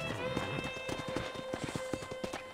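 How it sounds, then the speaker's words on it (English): Horse hooves clip-clopping at a steady gait in the video game Red Dead Redemption, played on Nintendo Switch, with a brief whinny, soft background voices and constant in-game ambience beneath. "let's see if you can still ride a horse"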